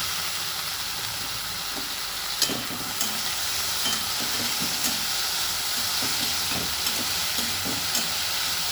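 Finely chopped onion, garlic and potato frying together in a pan, a constant dense sizzle with soft stirring knocks scattered throughout, no voices.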